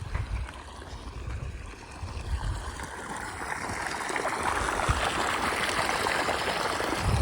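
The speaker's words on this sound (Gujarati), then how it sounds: "ઘઉંમાં અત્યારે પાણી હાલે છે" Steady rushing and trickling irrigation water flows continuously through a wheat field, pumped by a motor, with a low rumble underneath and no voices.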